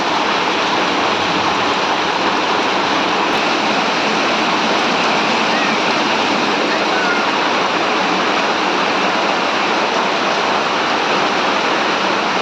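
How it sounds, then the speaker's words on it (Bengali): A steady, dense roar of heavy rain pours down continuously without a break, loud and close throughout. "দেখতে পাচ্ছেন বৃষ্টি কিভাবে নামছে"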